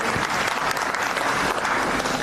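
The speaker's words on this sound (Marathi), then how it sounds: "आपण सगळ्यांनी एकदा जोरदार टाळ्या वाजवूया" An audience at an honour ceremony applauds with dense, steady clapping that fills the whole stretch at an even, fairly loud level.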